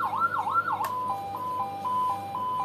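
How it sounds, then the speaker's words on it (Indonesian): Siren from a CJB 200 W siren module, set to its ambulance tone: a fast rising-and-falling wail that abruptly switches to a steady two-tone hi-lo alternation, loud and close with no talking. "Siren ambulan."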